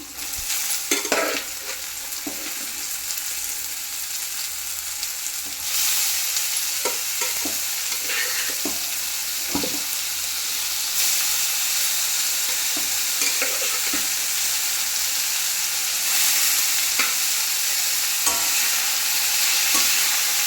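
Boiled flat broad beans (avarekai) being stirred and fried in a pan for a palya, a continuous sizzle with repeated scraping stir strokes throughout, close and alone with no talk.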